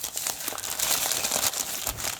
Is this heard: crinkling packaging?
yes